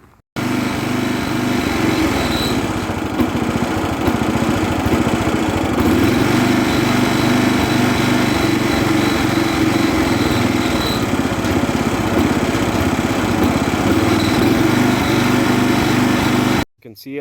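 An Ariens YT11 lawn tractor, just tuned up and started for the first time in eleven years, runs with a loud, steady engine drone close by for about sixteen seconds before cutting off abruptly.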